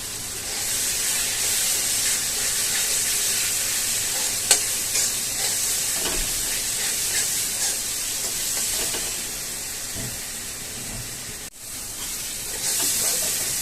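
A pan sizzles steadily with frying masala for chicken chukka, a continuous hiss broken by occasional scrapes and stirring clatter.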